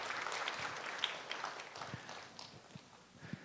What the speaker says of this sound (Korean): 수고해 주신 두 분 우리 최상심, 남문신 권사님께 큰 박수 부탁드리겠습니다